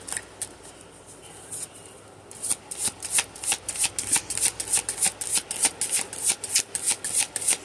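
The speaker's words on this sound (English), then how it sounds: "we like to shuffle these cards" Tarot cards being shuffled by hand, a quick run of crisp riffling flutters repeating in a steady rhythm, close and clear, with faint quieter handling before the shuffling begins.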